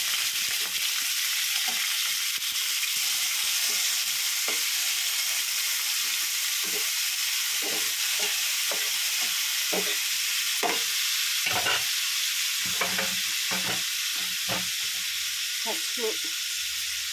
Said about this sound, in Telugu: ముందుగా రొయ్యలు వేపుకోవాలండి.